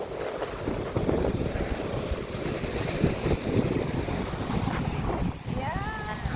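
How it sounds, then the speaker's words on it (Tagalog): Choppy sea waves wash steadily under strong, buffeting wind that rumbles across the microphone, with a faint voice briefly in the background near the end. "Maalon-alon ang tubig ng dagat."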